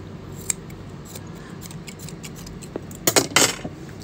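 Scissors snip through a piece of bespoke suit fabric at a tailor's, a few sharp crisp cuts bunched near the end after quieter handling sounds, close and alone without talk.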